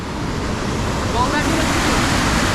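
Water rushing out through a dam's sluice gates in Similipal National Park, a loud, steady roar of churning water and wind buffeting the microphone that stays even and continuous throughout.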